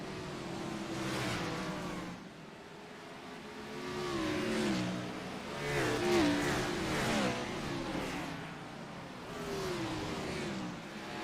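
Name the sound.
race cars racing on Bristol dirt track, from a racing video game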